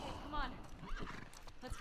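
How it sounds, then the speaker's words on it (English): A horse in the video game The Last of Us Part II whinnies briefly with a quick rising neigh, mixed with hoof clops and a voice speaking nearby. "Scared the horse as well."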